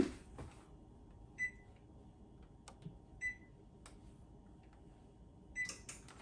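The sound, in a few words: setting the oven controls, beeping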